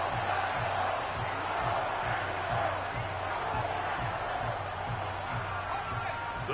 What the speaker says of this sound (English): The crowd cranking it up another notch before 3rd and long.